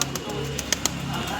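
At a pigeon market stall, a pigeon gives a short, soft cooing call amid a few sharp clicks and faint background bustle.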